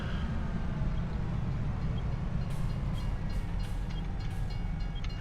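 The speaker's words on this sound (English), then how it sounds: "Oh, and there's the train." A train runs past a farm, its steady low rumble and rolling rail noise filling the whole stretch loud and near, with faint higher squeals and clicks drifting in over the second half.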